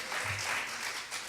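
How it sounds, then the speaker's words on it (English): An audience applauding during a church service, a brief burst of steady clapping from a crowd in a large room. "Give them a round of applause."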